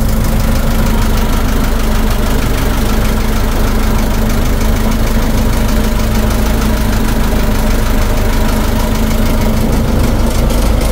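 A boat's engine idles steadily and loudly in neutral out on the West Philippine Sea, a constant low rumble with a rapid knocking throb that holds without letup.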